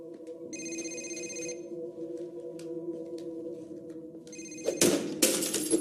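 A phone ringtone chirps in repeated electronic trills over a low hum, ending with a burst of rustling and clatter nearby.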